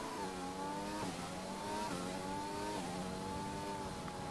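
Formula 1 car in an F1 video game pulling out of the pit lane, its engine a loud, steady high-pitched whine that climbs and drops with quick upshifts roughly every second, with no talk over it.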